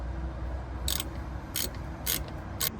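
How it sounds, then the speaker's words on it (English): Four short, sharp ratcheting clicks spaced roughly half a second apart as size 30 Torx bolts are undone on a Range Rover L405 electronic handbrake motor, fairly faint and close over a low background hum. "Now this comes off with size 30 Torx bolts."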